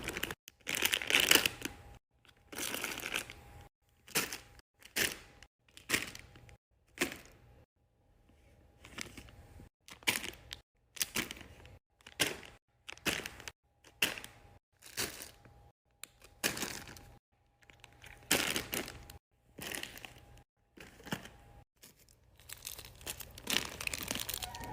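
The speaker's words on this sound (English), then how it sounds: "Enjoy some fidget toy packing ASMR while I get the fidgets ready for part" Fidget toys are packed into a suitcase for ASMR, with close crinkling, rustling and crunching bursts that come in quick, uneven clusters separated by short pauses, and no talking.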